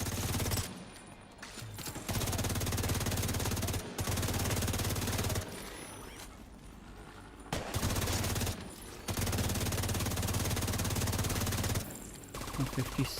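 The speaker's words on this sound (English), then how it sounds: "Explosions!" Bursts of rapid gunfire and explosions from a video game come in several long loud volleys separated by short quieter gaps, with no talk over them.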